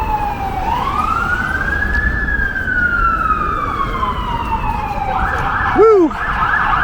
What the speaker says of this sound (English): we got a fire truck with a purpose coming towards us